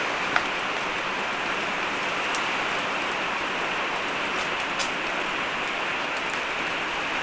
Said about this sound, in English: we currently have some much needed rain, which yeah, it's a bit stormy as well